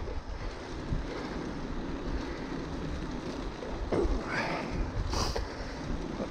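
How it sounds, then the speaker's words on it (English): Strong sea wind buffets the microphone on a coastal road while cycling before a storm, a constant loud roar with gusty rumble and no talking. "The wind off the sea can be a bit of a pain though."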